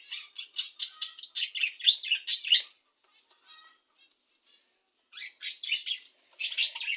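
Budgerigars chirping close by in rapid bursts of twittering calls, with a quiet pause in the middle before the chatter resumes.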